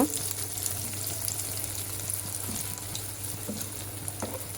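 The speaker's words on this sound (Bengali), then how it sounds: "এখন ডিম ভাজতেছি" Egg frying in a pan, a continuous soft sizzle and crackle holding steady throughout with occasional faint clinks, no voice over it.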